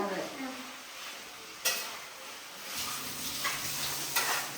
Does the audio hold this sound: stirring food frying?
yes